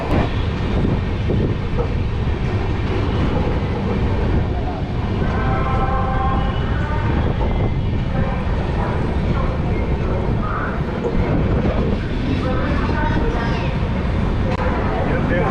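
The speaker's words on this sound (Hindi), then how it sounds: "ट्रेन हमारी पहुंच चुकी है अलीगढ़ जंक्शन" A Swatantrata Senani Express train runs steadily, heard from inside a general coach: a loud, continuous rumble and rattle of wheels and carriage with faint clacking and indistinct voices mixed in throughout.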